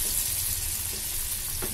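Potato pakoras in buckwheat flour batter dropped one by one into hot frying oil, a brief, loud, steady bubbling sizzle heard close up.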